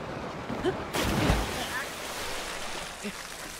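A character dives into a body of water in Zelda: Tears of the Kingdom, making a sudden broad splash that washes into a sustained watery rush and then fades under a low game background.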